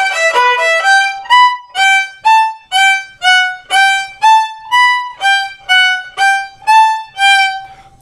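A solo violin plays the fast ending phrase of a song as a run of about a dozen clear, bowed notes in a steady rhythm, loud and close, with no talking.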